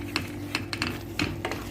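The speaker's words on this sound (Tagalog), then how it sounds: "Halo-haloin lang siya guys." A pot of food is stirred over a simmering heat, with several light clinks and scrapes of a utensil against the pot at an uneven rhythm over a steady low hum.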